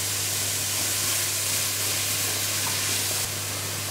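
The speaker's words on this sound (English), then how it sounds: "we're beginning to brown our onions off. And the same with our mushrooms." Onions and mushrooms browning in a hot pan for a cottage pie, giving a steady, loud broadband sizzle that runs unbroken without any talking.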